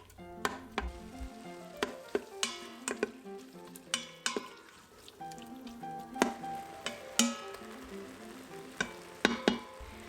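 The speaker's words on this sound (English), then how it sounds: "Added my finely cubed meat, beef. Going to saute it for a couple of minutes." Finely cubed beef sautés in oil in an Instant Pot, giving a soft continuous sizzle punctuated by repeated sharp utensil scrapes and clinks against the pot as it is stirred.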